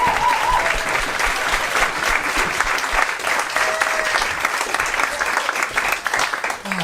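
Sustained audience applause with a few whoops at a year-end special gathering, steady and dense throughout, honoring a speaker who just shared her story.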